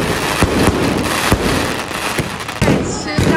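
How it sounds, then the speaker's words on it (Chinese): Fireworks set off at an 80th birthday celebration, a string of sharp cracks and pops scattered irregularly across the clip over a steady noisy backdrop, fairly loud and close. "压个烟花！"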